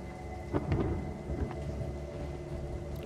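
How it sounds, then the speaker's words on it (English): In a horror video game, steady rain falls while low thunder rumbles and cracks, loudest near the start, with no voices. "I can't tell if that's the sound of rain or somebody's taking a shower."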